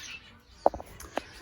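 Zebra finches in an aviary give a few short, sharp chirps close by, scattered across a quiet moment with no talking.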